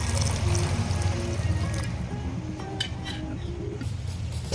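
Water is poured into a pot of potato curry, a soft steady trickle and splash close by with a faint clink of a utensil against the pot and no talk.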